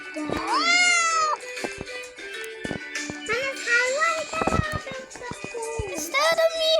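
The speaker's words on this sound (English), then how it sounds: "Is that a meow?" A cartoon cat in a kitty video game meows repeatedly in bright, rising cries, mixed with a voice talking and game sound effects.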